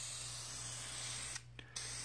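High-temperature spray paint hisses steadily from an aerosol can onto an engine cover, one long continuous burst that briefly cuts out and resumes at close range.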